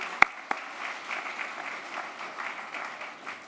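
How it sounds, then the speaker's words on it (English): Audience applauding at an award ceremony, a couple of sharp close claps up front and then a steady, moderately loud wash of clapping from the crowd. "you can applaud that too"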